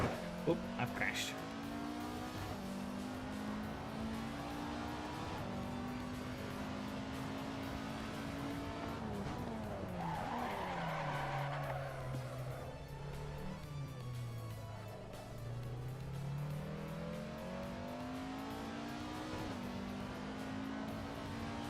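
A race car in the Assetto Corsa racing game skids after a crash, its engine droning and shifting pitch under a long tire scrub, steady and fairly loud, with a voice talking over it.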